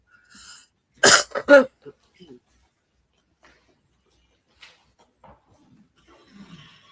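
Harsh coughing fit in a courtroom, a close burst of three or four rough coughs followed by a little throat clearing and faint shuffling, with no talk over it.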